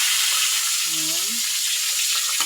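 Tilapia fries in a pan with a steady, dense sizzle and crackle that fills the whole stretch, with a brief faint voice passing under it.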